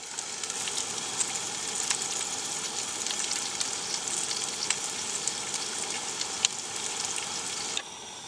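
Food sizzles and fries steadily in a frying pan on a camp stove outdoors, a continuous bright crackle with scattered pops, close and fairly loud, ending with a sudden drop near the end.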